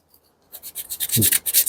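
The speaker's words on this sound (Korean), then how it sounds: "사포로 이제 문지르겠습니다." Close, short rasping strokes of sandpaper rub back and forth against a rubber bicycle inner tube during puncture repair, starting after a brief pause and repeating steadily.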